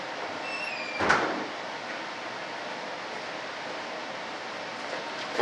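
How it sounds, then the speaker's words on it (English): A shop door is shut once near the start with a short sliding thud, followed by a quiet room hum and a small knock at the very end. "I gotta go shut that door."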